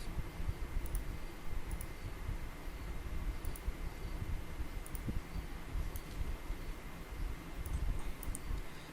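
Computer mouse clicks during SolidWorks modeling tick faintly and irregularly, scattered singly and in quick pairs over a steady hum.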